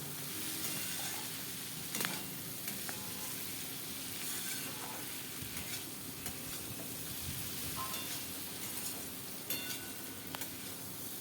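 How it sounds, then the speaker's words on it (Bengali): Potatoes cooking with tomato, green chili and poppy seed paste for Bengali aloo posto are stirred steadily in a pan, a soft continuous sizzle with scraping spoon strokes running throughout at moderate, even loudness. "দিয়ে আবার খুব ভালো করে নাড়াচাড়া করে নেবো"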